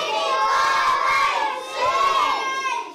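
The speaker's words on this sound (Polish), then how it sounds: "Uzgodnić, jak będziemy wołać Świętego Mikołaja" A crowd of children in Lviv cathedral shouts together for Saint Nicholas, loud and sustained, with one brief dip before the shouting swells again.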